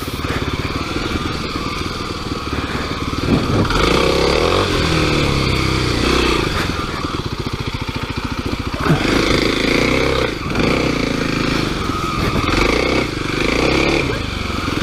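A Kawasaki KLX300 dirt bike rides along a wet suburban trail, its engine droning loud and close throughout, rising and falling as the throttle changes, with clattering over rough ground.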